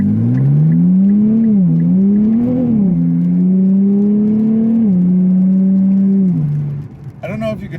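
A 2024 Nissan Z Nismo sports car accelerates hard, its loud, close engine drone climbing and dipping with several gear shifts before easing off near the end.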